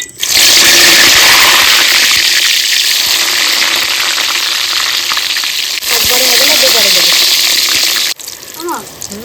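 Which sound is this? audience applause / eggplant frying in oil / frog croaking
eggplant frying in oil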